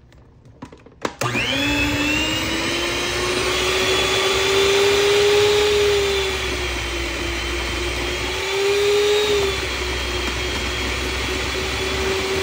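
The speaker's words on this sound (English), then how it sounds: "so it doesn't explode everywhere when I turn the mixer back on" Electric stand mixer whirring loudly while mixing vegan pumpkin sugar cookie dough, starting abruptly after a few clicks and holding a steady motor whine with a slight dip in pitch partway through.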